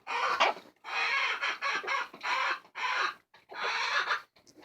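Chickens clucking inside a backyard chicken house, a series of close, loud bursts of clucks and squawks separated by short quiet gaps, with no talk over them.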